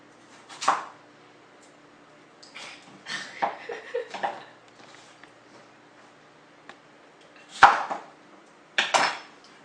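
Potato pieces dropped into a cooking pot in a home kitchen, a handful of sharp clattering knocks in short clusters with quiet gaps between them, close and clear.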